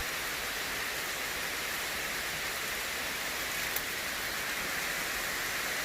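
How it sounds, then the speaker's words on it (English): Steady rain falls on a rainy day in Port Austin, a dense, even hiss of drops on surfaces that stays constant and fairly loud throughout with no talking. "It's a rainy day here in Port Austin."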